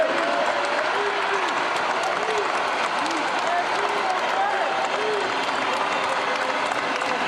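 A large basketball arena crowd claps and cheers continuously, a dense, sustained roar of applause with scattered shouts and voices mixed in, celebrating the Lakers clinching a trip to the NBA Finals.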